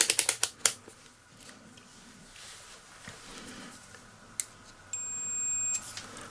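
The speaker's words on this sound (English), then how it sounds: "So let's test it with a multimeter." A multimeter gives a steady continuous beep for about a second while probing a Stihl on/off kill switch, following a series of clicks and taps from the probes and handling.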